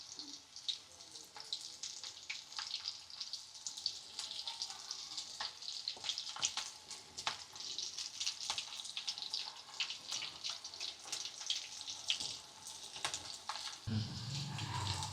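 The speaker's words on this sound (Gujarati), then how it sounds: "આપણે આવી રીતે તળાવા દેવાના છે એટલે એકદમ ક્રિસ્પી થશે." Chili-ring bhajiyas deep-fry in hot oil, a faint but steady bubbling crackle with fine pops throughout, ending with a low clatter, and nobody talks over it.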